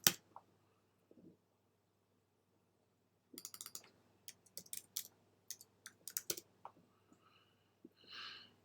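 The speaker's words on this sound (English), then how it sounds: "Type in your password if your computer is wanting it." Keystrokes on a computer keyboard as a password is entered, a quick irregular burst of close clicks after a quiet stretch, with a few scattered taps before and a soft whoosh at the end.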